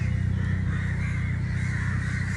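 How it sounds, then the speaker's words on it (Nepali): Many crows cawing steadily from a company rooftop, a dense, continuous chorus of harsh calls close by with no talking. "कम्पनीको छाकैभरि टन्न कागहरू बसेको छ यहाँ कराइरहेको छ"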